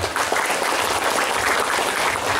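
Dense, lively clapping from an audience of students and parents at an Islamic boarding school, applauding two questioners, continuous and fairly loud through the short stretch.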